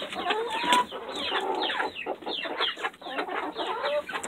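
Backyard chickens cluck and murmur at feeding time in a busy, continuous chorus close to the microphone, with occasional louder squawks and no speech.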